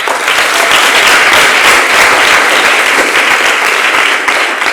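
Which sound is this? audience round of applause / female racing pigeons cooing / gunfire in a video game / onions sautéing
audience round of applause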